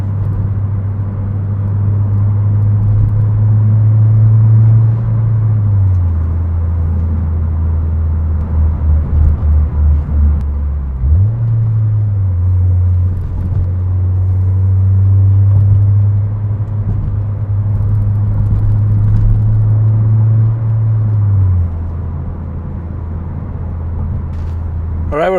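9th-gen Honda Civic Si with a Yonaka exhaust driving along, a steady low droning exhaust note that rises and falls with gear changes, heard continuously and fairly loud without talk.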